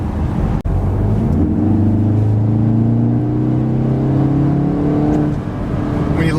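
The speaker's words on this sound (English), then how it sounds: "When you let off, you can hear kind of the recirculating of the boost pressure blow back through" A VW Golf R fitted with an aFe air filter pulls hard, its engine note climbing steadily and loudly for several seconds before the driver lifts off and the sound eases as boost recirculates.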